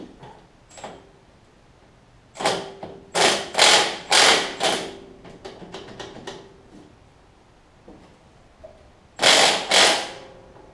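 A socket wrench ratchets against a stuck bolt on a Murray Briggs engine during camshaft and pushrod repair, giving loud close bursts of rapid clicking in several spurts separated by quieter metallic taps and handling noise.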